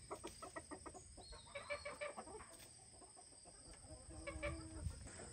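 A hen clucks softly in a barnyard during morning chores, a few low rhythmic clucks heard faintly at a distance over quiet ambient noise.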